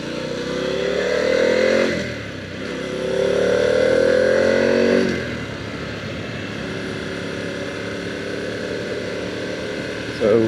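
A 2024 Harley-Davidson Pan America motorcycle engine accelerates through rising gear pulls, with two strong revving surges followed by a steadier cruising drone and wind rush, heard from the rider's position.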